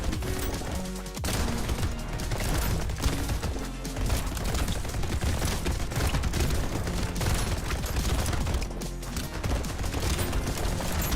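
Mines exploding in a Warcraft 3 match, dense overlapping blasts and crashes over a constant wash of game music and battle noise, loud and continuous.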